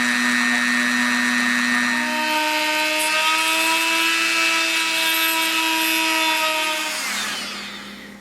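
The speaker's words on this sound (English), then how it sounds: "so I don't have to have my big clumsy thumb in there while I drill this out" A small high-speed drill whines steadily close by, drilling a small hole in a coin, its pitch rising slightly as it bites, then it winds down near the end.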